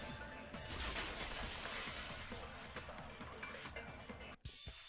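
A vase shatters in the video game Danganronpa 2: a dense, loud crash of breaking ceramic sprays and rattles for several seconds before cutting off abruptly.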